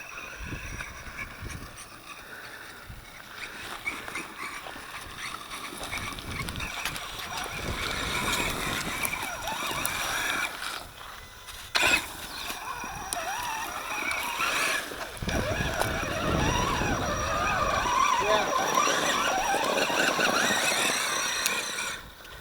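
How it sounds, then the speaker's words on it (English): A Losi ULTRA Desert Buggy RC car on its maiden run, whining motor and tires digging and scrabbling into loose terrain, a steady rising squeal that swells in bursts, heard at close to mid distance with no talk. "I love the sound of those tires. They really, you can hear them when they dig."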